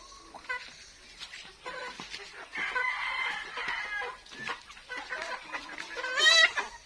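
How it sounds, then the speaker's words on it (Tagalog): Native chickens cluck and squawk close by in a busy, overlapping chorus, with a louder shrill call near the end. "Maglalabasan yung manok natin."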